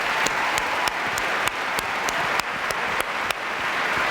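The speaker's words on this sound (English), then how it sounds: "How about a round of applause for all that talent?" Awards-show audience at the 2015 Canadian Screen Awards clapping, dense sustained applause from a large crowd filling the hall, steady and loud without voices above it.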